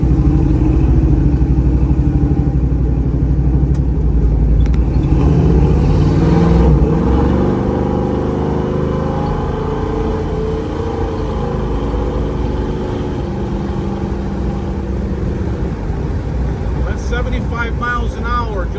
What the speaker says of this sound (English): just rolling the throttle, not even full throttle